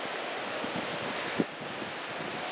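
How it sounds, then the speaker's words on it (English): Steady wind roars and buffets the microphone on a cold seaside boardwalk at Seaside Heights, a broad constant rush with a single brief thump partway through. "Windy, windy and cold on the boardwalk."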